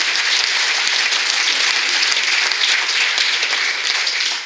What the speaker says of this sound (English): a huge round of applause for your stars